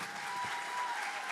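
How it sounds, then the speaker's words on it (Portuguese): A crowd at a church youth talk gives a short burst of steady, dense applause, heard from a distance and fairly soft. "Aplauda mais uma vez."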